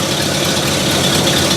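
A Ford Galaxie V8 fitted with a Holley carburetor idles while warming up, a loud, close, steady rumble with an even pulsing beat across the short stretch.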